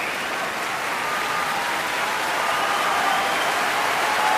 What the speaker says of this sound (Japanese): そこに大歓声が沸き起こっています